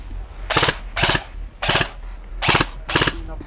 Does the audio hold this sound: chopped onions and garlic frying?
no